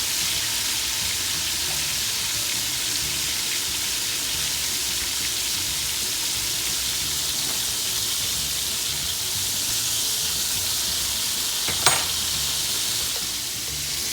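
Thin turkey cutlets sizzle in a frying pan, a steady hissing crackle held close throughout with a brief sharper pop near the end and no talking.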